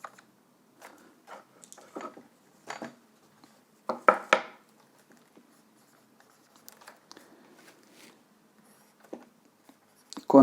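Hand drawing of a pi-model circuit for an emitter-follower transistor amplifier, with short bursts of pen strokes scratching across paper, some sharper and louder than others, spread unevenly through a quiet background.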